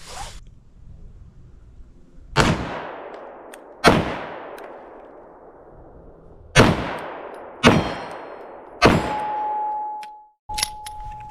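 A Sig Sauer P365XL Spectre Comp pistol fires six sharp, loud, close shots spaced a second or two apart, each ringing out briefly before the next.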